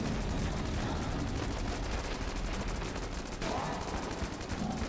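Dense, rapid gunfire in the video game Enter the Gungeon runs loud and nearly unbroken, with shots piling into a continuous rattling barrage.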